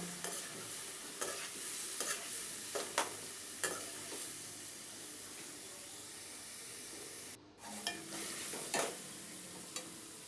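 Beef mince fries in a pot during bhunai, giving a continuous soft sizzle with intermittent scraping stir strokes and a brief pause near the end.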